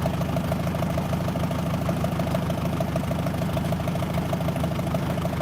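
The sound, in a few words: Farmall tractor engine running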